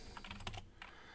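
A handful of quick, quiet keystrokes tap out a short word on a computer keyboard over a low background hum.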